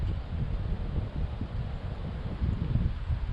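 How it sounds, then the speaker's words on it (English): Wind gusting across a creek bank while fishing, a steady low rumble and buffeting against the microphone with no voices, continuous and fairly faint throughout. "It's really windy today."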